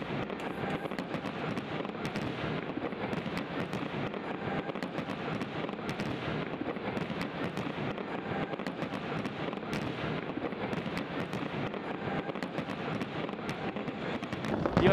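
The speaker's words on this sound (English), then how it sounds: "they decided to have a fireworks display just to commemorate my visit to Adelaide" Fireworks display bursting over Adelaide, a dense continuous wash of crackles and pops with a steady rumbling roar throughout, plus faint wind and distant crowd noise.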